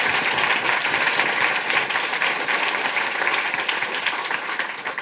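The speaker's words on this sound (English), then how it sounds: "Round of applause for my dad, everybody." A comedy club audience breaks into sustained applause at a stand-up show, loud, dense clapping from a full room that carries on steadily without a break.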